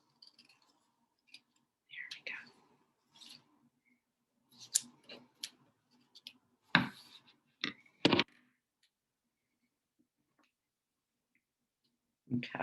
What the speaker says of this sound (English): I think this time I'm going to cut this part off from the bigger piece because I think it'll be easier to cut that way.